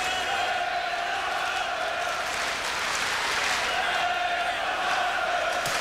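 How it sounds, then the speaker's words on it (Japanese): A large arena crowd at a professional light heavyweight title boxing match roars and cheers steadily throughout, a dense wash of voices and applause with a commentator's voice faintly underneath. "歓声が声援が飛んでいます。"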